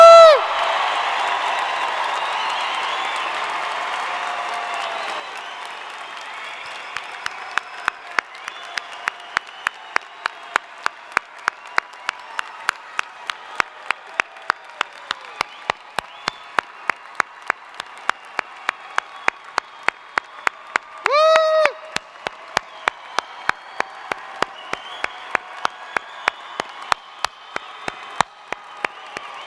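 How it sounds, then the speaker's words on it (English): A university commencement crowd claps and cheers for its graduates, starting with a dense roar of applause and whoops that thins into steady rhythmic clapping, joined by a brief burst of shrill whistling partway through. "Clap, shout, scream, love."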